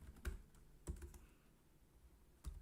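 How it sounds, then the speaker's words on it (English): Typing on a computer keyboard, a few separate close keystrokes and clicks spaced out over a quiet room. "I'll type these here"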